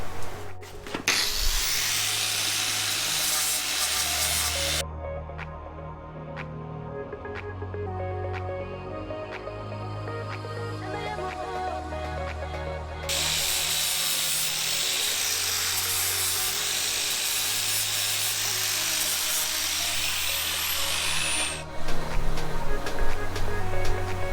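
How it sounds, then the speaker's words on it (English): An angle grinder removes material from welds on a steel trailer cage frame, whining loudly in long bursts that stop for several seconds as it spins down, then starts up again close by. "We'll get the grinder and we'll just take a little bit of material off these just to see how those welds look"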